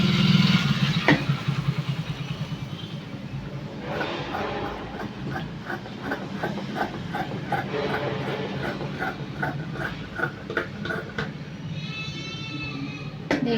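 Scissors snip through blouse lining fabric in a series of quick, regular close cuts over a steady background hum.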